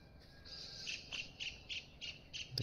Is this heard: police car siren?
no